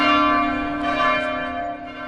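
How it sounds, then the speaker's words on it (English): A church bell rings loud and close, its sustained metallic tone humming and slowly fading with no one speaking. "Church bells."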